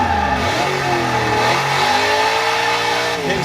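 An older, heavy car's engine revs steadily in a racing video game on the Xbox Series X, its pitch climbing and sweeping through gears as the car drifts sideways, loud and continuous with no talk.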